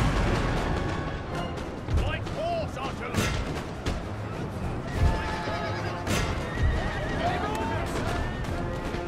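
Horses whinny several times amid galloping hoofbeats and bursts of gunfire in Napoleon: Total War, Battle of Waterloo, with voices talking over the game action.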